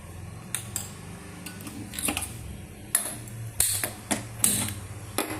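Gas stove in a home kitchen being switched on for cooking a green peas curry, with a run of sharp igniter clicks and knob ticks, irregular and close, over low background hum.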